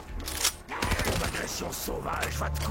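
Rapid automatic weapon fire in Black Ops 3 zombies on the Der Eisendrache map, bursts of game gunshots mixed with other game effects, loud and busy, with someone talking over it.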